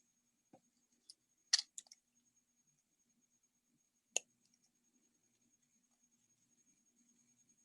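Wire cutters snip wire on a twisted-wire bracelet in a quiet room. A few sharp, close clicks come singly and in a quick cluster, with a last crisp snap after a pause.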